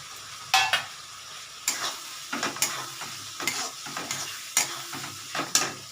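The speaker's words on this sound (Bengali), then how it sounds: "তারপরে এই যে পেঁয়াজগুলো রেখেছি এখন আমি এটা দেবো" Onions tossed into a hot pan with tomato, frying and being stirred, giving repeated sharp scraping bursts over a low steady sizzle, close up, with no talking.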